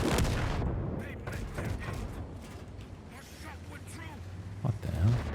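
A tank cannon fires in World of Tanks: a loud, sharp boom opens the clip, then battle noise with fainter impacts follows under speech.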